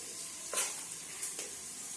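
Onions fry in hot ghee for chicken biryani, a soft steady sizzle with two brief louder stirring swishes, close but fairly quiet.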